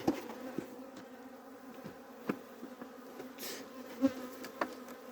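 Steady buzzing of honeybees around a hive while two weak colonies are being combined, close and continuous, with occasional soft knocks and taps.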